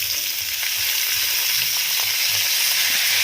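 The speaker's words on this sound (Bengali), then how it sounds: "এবার পেঁয়াজটাকে একটু ভাজতে হবে লালচে করে" Chopped onions fry in a pan for Bengali egg curry, giving a loud, even sizzle that holds steady from start to finish, up close with no one talking.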